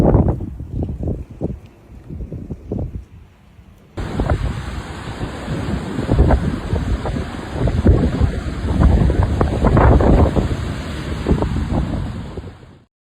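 Strong storm wind in Noyabrsk, Russia, roars and buffets the microphone in heavy gusts, rising to loud sustained blasts after a brief quieter opening, with no talking.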